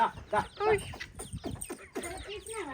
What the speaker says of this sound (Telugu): మా కోడి పిల్లలు కొంచెం పిలవగానే ఎట్లా ఊరికొస్తున్నాయి చూడండి